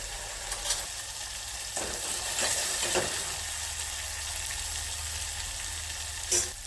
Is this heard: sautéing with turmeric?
yes